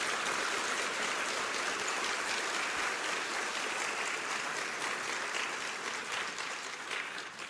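Sustained applause from an audience at a public health forum on Ebola, a dense wash of clapping holding steady for several seconds and easing slightly near the end, with no voices over it.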